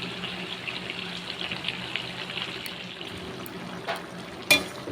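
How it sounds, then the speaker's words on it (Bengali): Curry water boils in a pot of pumpkin-greens curry with a soft, steady bubbling hiss, a faint thump near the end, and one sharp clink just after. "তরকারির যে জলটা দিয়েছিলাম ওটা কিন্তু আমার খুব সুন্দরভাবে ফুটে উঠেছে"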